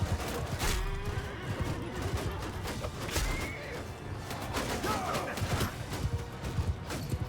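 Horses whinny loudly in a Mount & Blade II Bannerlord battle, several neighs rising over clopping hooves, clashing and the steady rumble of the fight.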